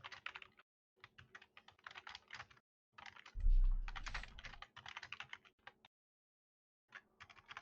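Commands are typed on a computer keyboard in quick bursts of clicking keystrokes, close and fairly quiet. The bursts are separated by short pauses, and a low thump sounds once partway through.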